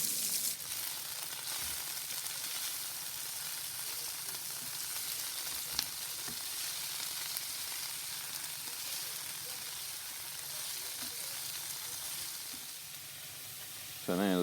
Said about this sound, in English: the Pak Choi, which we're going to fry in some oil with 2 cloves of crushed garlic